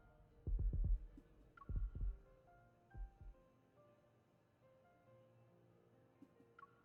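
Heartbeats pulse in the Love and DeepSpace game: deep, thumping double beats repeat three times and fade, over soft, sustained musical tones.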